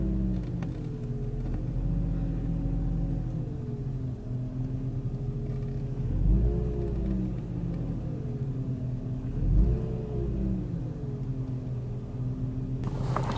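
A BMW M54 engine idles steadily with a slight idle fluctuation, its revs rising twice in brief swells before settling back to a low rumble.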